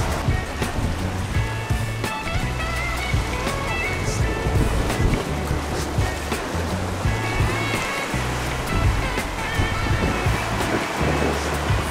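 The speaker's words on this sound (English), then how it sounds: "Geo, the water's coming." Ocean surf washes steadily onto a rocky Cape Verde shoreline, loud and close with rolling low rumble and wind buffeting the microphone, while people talk faintly in the background.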